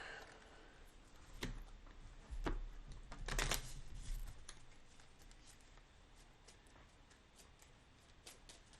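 Soft riffling and tapping of a deck of cards being shuffled during a game of Undaunted Stalingrad, with a few sharper bursts in the middle, then faint clicks over a quiet room.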